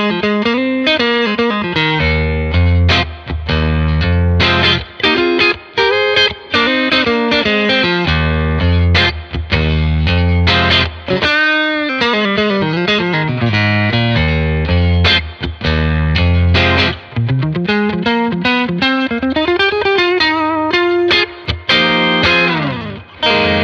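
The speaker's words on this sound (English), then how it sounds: "Here's the clean Strat part from the song at the beginning of the video." A Stratocaster electric guitar plays a clean part through a Celestion A-type speaker, with loud ringing notes and strummed chords continuing steadily.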